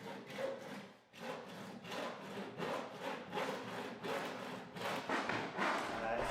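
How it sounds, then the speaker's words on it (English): Handsaw cutting along a pencilled line across a wall panel, with a rhythmic series of back-and-forth rasping strokes, close and fairly loud. "Using the handsaw, cut along the straight line."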